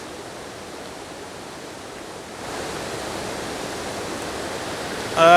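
Fast-moving water rushes steadily over rocks in a misty, rainy setting, a constant hiss that grows slightly louder partway through, with a brief sharper sound at the very end.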